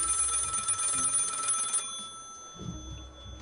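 A telephone rings in the video game Lil Guardsman, a bright electronic trill sounding loudly for nearly two seconds before cutting off, followed by faint low background tones.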